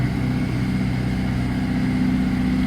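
A tractor engine runs steadily nearby, a continuous low, even chugging drone that holds at a constant pitch with no talk over it.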